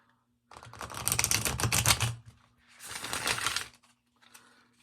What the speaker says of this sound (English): See, it shuffles really good.